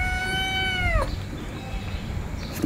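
A single clear cat meow, drawn out and falling in pitch, close by against quiet background noise.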